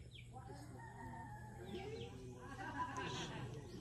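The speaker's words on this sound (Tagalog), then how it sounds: "Meron din mga manok dito." Chickens cluck and a rooster crows at a nest area near a house and a candlelit grave, the calls fairly faint and mixed with birdsong over a steady low background hum.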